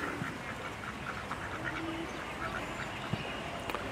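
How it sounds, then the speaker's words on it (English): Wild ducks on the water at a zoo quack faintly in short scattered calls over a constant wash of outdoor background noise. "There's various types of ducks enjoying the water."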